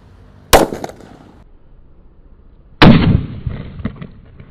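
A Roman candle firework fires two sharp, loud bursts about two seconds apart, each a sudden crack with a short rushing decay, separated by a low background.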